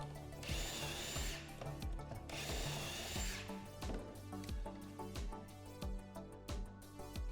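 A power drill bores shelf pin holes through a shelf pin jig into the side of a plywood cabinet box, in two loud whirring bursts separated by pauses and knocks.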